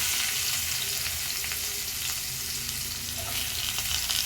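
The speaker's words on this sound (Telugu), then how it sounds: "కొంచెం జీలకర్ర వేసుకున్నాను ఇప్పుడు ఆనియన్స్ వేసుకుంటున్నాను" Onions sizzling loudly in a spoonful of hot oil with cumin seeds, a dense and continuous close frying hiss with faint stirring underneath and no voices.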